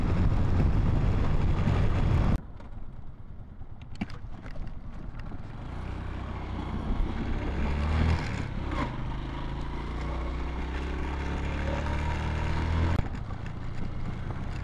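A Honda TMX 125 Alpha motorcycle climbs a mountain road, its engine hum rising and straining through heavy wind buffeting, with a sharp drop in level early on and no speech.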